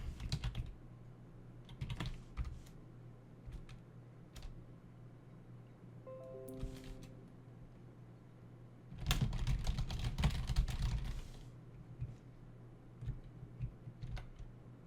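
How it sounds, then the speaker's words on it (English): Keys clatter on a computer keyboard in scattered bursts of rapid clicks, with a dense loud flurry near the middle, a brief tonal beep sequence earlier, and a low steady hum beneath. "I just kind of smashed my keyboard."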